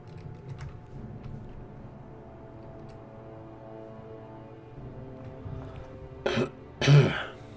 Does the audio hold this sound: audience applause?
no